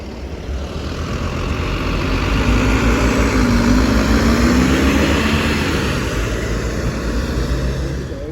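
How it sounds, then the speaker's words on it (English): Travel Masters bus MX-07 BVE pulling away on the 12:55 service to Dover at Ashford International, a steady low diesel engine drone with a rising tone midway, close and fairly loud, no talking. "Then also leaving is one of the 1255s to Dover with Travel Masters MX-07 BVE."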